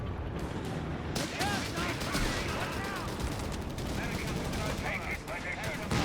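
Infantry gunfire in Company of Heroes 3 as British infantry cut down a German grenadier squad, continuous crackling rifle and machine-gun fire with a commentator's voice talking over it.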